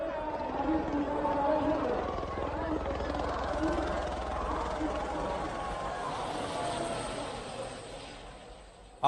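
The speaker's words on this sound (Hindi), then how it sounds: "हेलीकॉप्टर से पुष्प वर्षा की जा रही है।" A helicopter showering flower petals over crowds of pilgrims at the Maha Kumbh in Prayagraj gives a steady, moderately distant rotor drone, blended with a broad murmur of the crowd below throughout.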